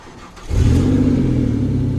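A Ford Fiesta ST engine cranks briefly on push-button start, then catches and settles into a loud, steady close-up idle rumble with no talk.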